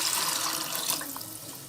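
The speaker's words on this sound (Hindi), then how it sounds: "हमने चावलों का पानी डाल दिया।" Water pours steadily into a pot of rice for matar pulao, a brief close splashing rush that tapers slightly toward the end, with no talking.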